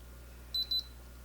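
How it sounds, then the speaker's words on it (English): Two short, high-pitched electronic beeps in quick succession from a SHEGLAM It-Curl one-touch instant hair curler, clear against a quiet background hum. "you hold it until it beeps"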